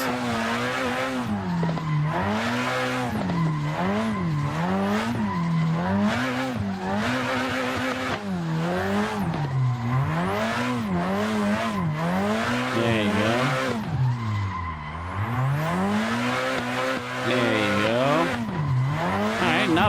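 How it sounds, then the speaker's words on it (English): A drift car in the Assetto Corsa racing game, its engine wailing and rising and falling in steady waves as the throttle is feathered, with tire squeal running underneath, loud and continuous throughout. "I'm kind of just like feathering the throttle to kind of get those RPMs"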